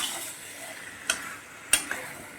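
Potatoes frying with meat in a pan, a soft steady sizzle with two sharp clinks of a utensil being stirred against the metal, close and fairly quiet.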